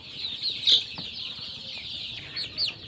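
A few soft clucks and short chicken calls from a sick hen sound close by over a steady high-pitched insect-like drone in the background.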